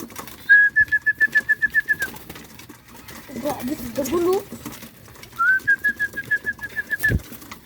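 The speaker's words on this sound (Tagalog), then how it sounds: "So, yun, nagsigbabaan na. Nag-aabang na mga kalapatids." Pigeons gathering and waiting for feed, giving two runs of quick repeated whistling coos with softer rustling and murmured calls between them. Someone talks quietly in the background.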